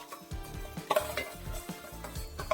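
Urad dal fries in a pan with green chillies, ginger and curry leaves for poha, giving a soft sizzle under repeated scraping of a spoon against the pan, close and brief.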